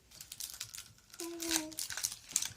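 A surprise egg toy package is torn and crinkled open in quick, bright rustling bursts, with a short squeak or voice partway through and some nearby talk.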